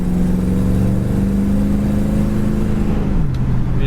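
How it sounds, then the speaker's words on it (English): A 1969 Ford Mustang Mach 1 with a 302 V8 pulls hard under kickdown, its loud, close engine droning steadily before the pitch drops near the end as it shifts. "you punch it down, that kick down, kicks it right down to seconds, breaks the tires loose"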